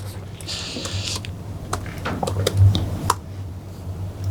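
Keys clatter on a German-layout laptop keyboard during a conference talk, a quick run of light, close taps with a few firmer strokes over faint room hum.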